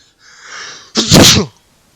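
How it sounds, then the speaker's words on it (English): A single loud, close sneeze with a short breathy inhale just before it, then silence. "Gotta sneeze."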